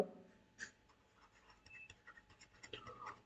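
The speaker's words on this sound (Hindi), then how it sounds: "मैं जल्दी जल्दी लिखूंगा, आप लोग भी लिखते रहना।" Chalk or marker scratching on a board in a lecture hall, quiet and intermittent strokes of writing with brief louder taps, no voices.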